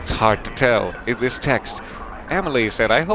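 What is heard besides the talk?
No distinct noise like a dog, phone or traffic.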